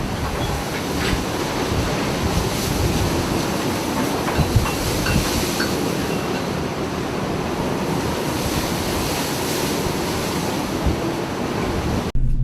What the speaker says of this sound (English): A small fishing boat passes powerful waves near the rocks.